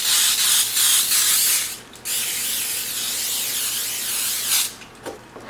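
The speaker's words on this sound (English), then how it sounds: "we're going to just spray this with the baking spray." Close, loud hissing bursts from an aerosol can: a few short sprays, then one long continuous spray, ending with brief puffs.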